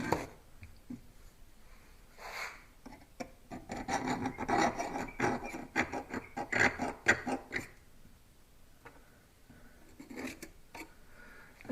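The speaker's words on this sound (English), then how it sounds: "I'm going to cut a line with a shiny pointy scribe, and I'm just going to kind of like scribe around my" A shiny pointed steel scribe scratches a line around the outside edge of a stag-handled Bowie knife blank, giving a run of quiet, rasping scrapes that bunch together in the middle and then taper off into short, sparse strokes.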